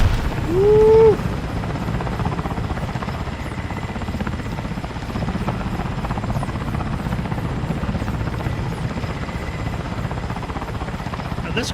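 Mi-8 transport helicopter in the military shooter game Squad (Sons of Attila mod), with a steady low rotor thump and engine whine droning throughout, loud and continuous, with a brief rising tone near the start.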